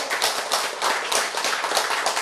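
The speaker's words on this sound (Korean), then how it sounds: "박수" An audience at a Korean Christian lecture claps steadily, with dense overlapping applause throughout and no speech.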